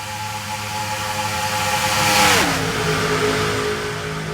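Race car engines roar past during a Daytona race, a loud sustained drone whose pitch drops sharply as the cars pass close by, then settles lower as they pull away.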